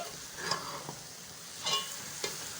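Grated carrots stirred in ghee with a spoon for gajar halwa, giving a soft, continuous sizzle broken by a few scraping strokes against the pan.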